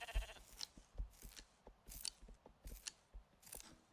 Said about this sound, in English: I hear more sheep.